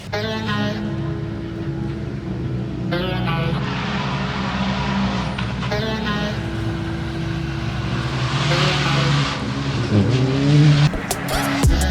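Rally cars race past on a West Australian Rally Championship stage, engines roaring by in several loud passes with tyre noise, the sound swelling and fading as each car goes through, without talk.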